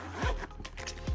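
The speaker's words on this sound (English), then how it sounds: "and unzip" A zipper on a golf rangefinder's carrying case is pulled open in a few quick, close rasping strokes, crisp and fairly loud with no voices over it.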